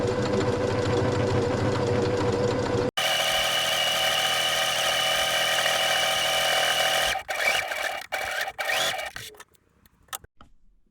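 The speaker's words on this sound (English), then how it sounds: "because this is a stretch knit, it's got a little stretch to it, so I'm using a stretch stitch." Close and loud, a sewing machine runs a stretch stitch through fleece knit in one long continuous run with a brief stop partway, then ends in several short bursts before falling quiet.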